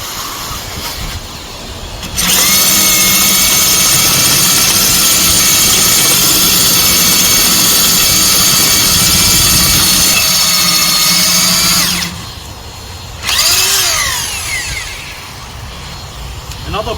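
Power drill boring a hole for a flood barrier with a dust vacuum running, a loud sustained whine for about ten seconds, then a pause and a shorter second burst over steady vacuum hum.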